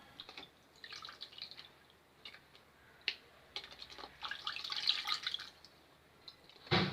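Homemade butter being rinsed by hand in ice water in a bowl, with soft dripping, sloshing and splashing that swells toward the end, fairly quiet and close, without speech.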